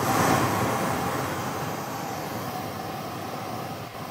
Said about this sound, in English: I'm going to start the pink noise here.